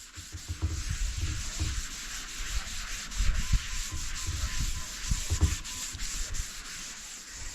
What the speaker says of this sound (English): we sand and prep the bottom